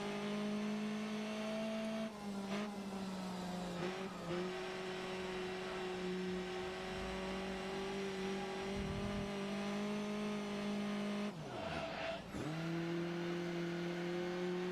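A race car engine in GRID Autosport on Switch drones steadily at high revs throughout, with brief dips and recoveries as the driver shifts gears or brakes, heard close and alone.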